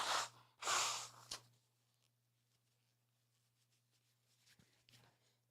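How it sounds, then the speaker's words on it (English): A person blows their nose in two loud, breathy bursts close to the microphone, then sniffs briefly before the room falls mostly quiet apart from faint rustles. "I got to blow my nose."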